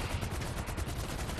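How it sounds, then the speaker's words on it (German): Dense, continuous gunfire in GTA Online, a fast rattling volley that runs steadily through the whole moment at moderate loudness with no pauses and no voices. "Doch, ich kann schießen."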